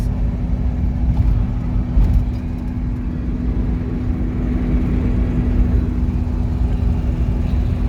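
A Toyota Hilux truck's engine while driving, a steady low drone with constant road rumble and a faint hum throughout, with no talking.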